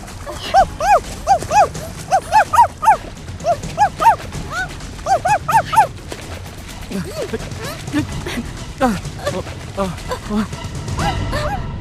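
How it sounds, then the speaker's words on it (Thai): A guardian dog barks a warning in a rapid run of loud, close barks through the first half, then people talk over a faint, busy background. "เจ้าฮอนที่ช่วยเห่าเตือน"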